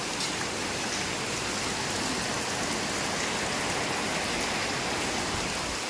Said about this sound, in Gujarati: બહાર તો જુઓ કેટલી ધડબડાથી બોલાવે છે વરસાદ, મોટા મોટા છાંટા